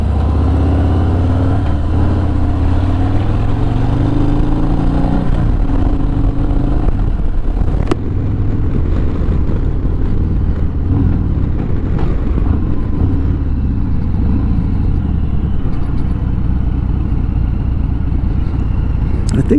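A truck driving along a road, its steady engine drone and tire rumble filling the cab throughout, with a slight shift in engine tone partway through.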